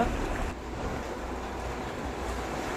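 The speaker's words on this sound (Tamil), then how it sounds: "கடற்கரை ஓரத்தில் நம்ம நின்றுட்டுருக்கோம் ஒரு பாலத்தில்" Sea waves at the seashore near Mandapam, heard from a bridge with water on both sides and boats nearby: a steady broadband wash of surf and wind, continuous and fairly loud, with no talk.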